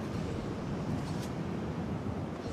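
A fierce, constant gale blows in the Dragon's Dogma video game, an even hissing and rumbling rush of air that stays level throughout, soft in volume and with no one speaking.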